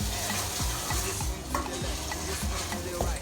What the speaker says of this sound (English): Now we are going to saute our gizzard.